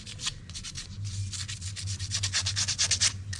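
Fine sandpaper rubbed back and forth over a rusty disc brake caliper piston, a close, steady rasping in quick rhythmic strokes over a low hum.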